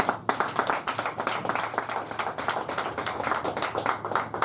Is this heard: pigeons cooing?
no